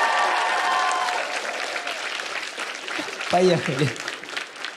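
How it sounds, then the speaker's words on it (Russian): Studio audience applause on a Ukrainian comedy show set, a steady dense clapping wash under faint music, with someone speaking briefly near the end. "Эти аплодисменты подбадривают вас."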